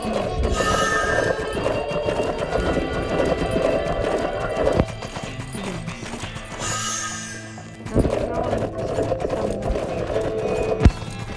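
Loud horse whinnies ring out over steady galloping hoofbeats in the video game Six Guns, the neighing rising and breaking off twice as the hooves keep pounding nearby.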